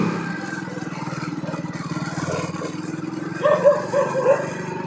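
Dogs bark by a roadside in Malwa, Bihar, a rapid run of sharp yips and barks building toward the end over a faint engine hum.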